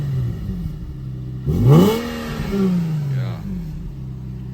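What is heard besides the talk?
Nissan G37 sedan revving with resonated test pipes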